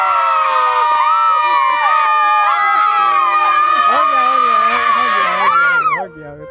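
A crowd of children shouts and screams loudly together in a sustained, overlapping roar for about six seconds before it abruptly drops away.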